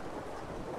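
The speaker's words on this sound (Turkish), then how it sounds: "yağmur yağıyor" Steady rain with a low rumble of thunder in the survival video game Ark Survival Evolved, a dense, even hiss that holds unbroken through the short moment.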